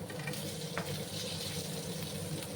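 Pieces of giant taro frying in a pan with oil, giving a steady low sizzle and bubbling that runs without a break, fairly quiet and close, with a few soft stirring scrapes.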